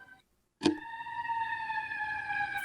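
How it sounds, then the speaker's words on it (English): A steady siren tone sounds after a short click, holding one pitch at moderate volume with no voices over it. "Can you hear that siren in the background?"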